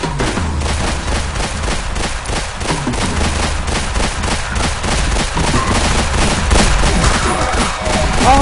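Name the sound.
gunfire in the video game Plazma Burst 2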